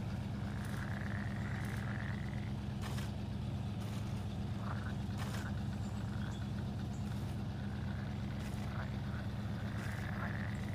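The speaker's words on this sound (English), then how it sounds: "But the animal you hear out here is the bullfrog." Bullfrogs croak in a swamp in the SnowRunner video game, repeated short calls rising above a constant low truck engine rumble, with sharp clicks scattered throughout.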